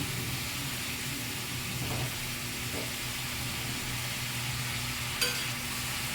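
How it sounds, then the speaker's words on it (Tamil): Ivy gourd cooks in oil with a soft, even sizzle and low hiss, broken by a faint clink of a utensil partway through. "லைட்டாக அந்த எண்ணெயிலே கோவக்காவை நல்லா வேக வச்சிடலாம்"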